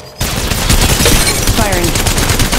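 Rapid automatic gunfire in the Apex Legends Mobile video game, a dense burst of closely spaced shots starting abruptly and continuing loud and steady.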